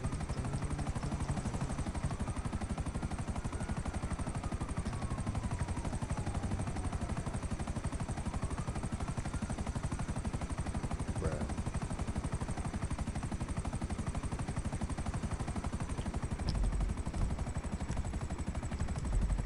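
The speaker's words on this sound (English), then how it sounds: "You're in a helicopter?" A video game helicopter drones steadily throughout, its rotor hum continuous and fairly loud, with faint gunfire-like clatter mixed in and no talk over it.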